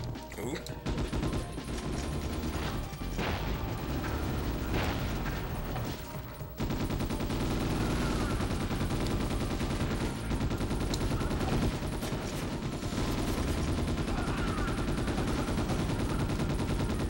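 Dense, continuous gunfire, including shotgun blasts, fills a Ghost in the Shell: S.A.C. firefight, with rapid bursts running almost nonstop over game noise.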